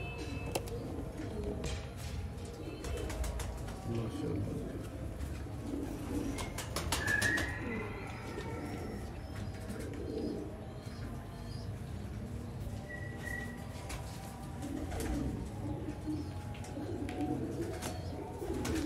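Sialkoti Jonsire Batere pigeons coo softly and repeatedly close by, with occasional rustling and brief wing movement. Someone speaks intermittently over the birds.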